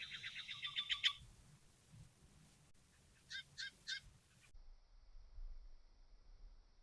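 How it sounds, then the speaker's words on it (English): Birds call at a lakeside campsite at Twin Lakes, Colorado: a bright, rapid chirping burst near the start, then a short series of three or four clear calls a few seconds later, over soft outdoor background. "Hear birds."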